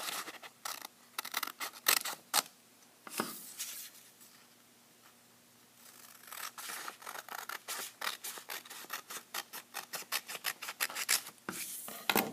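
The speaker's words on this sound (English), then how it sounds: "you need to cut off this edge that hangs out" Scissors snip repeatedly through a folded sheet of paper, trimming an overhanging edge and cutting across the bottom, with quick close crisp cuts in irregular bursts and a brief pause midway.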